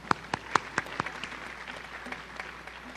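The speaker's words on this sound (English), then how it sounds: "Can we get another round of applause for Srimati Shobha?" Scattered applause from an audience at a Bharatanatyam dance recital: a handful of distinct, fairly loud claps at the start, then thinning into softer, sparse clapping over a faint room murmur.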